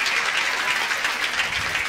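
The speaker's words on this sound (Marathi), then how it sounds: "एकदा जोरदार टाळ्या वाजवून मिनलताईंना मनापासून शुभेच्छा देऊयात" A crowd at a political rally applauds for Minaltai, a dense, sustained clapping that fills the whole short stretch at a moderate distance.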